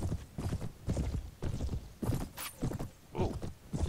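Horse hooves galloping in the Mount & Blade video game, a quick repeating clip-clop rhythm of hoofbeats, moderately quiet and unbroken by voices.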